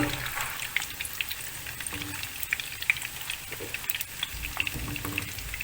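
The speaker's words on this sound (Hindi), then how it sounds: "जब ये अपने कलर चेंज कर लेगा तब तक हम इसको सिर्फ फ्राई करेंगे" Boiled eggs fry in oil in a pan for egg korma, turned until light brown. A steady, close sizzle carries scattered sharp crackles and pops, with no talking.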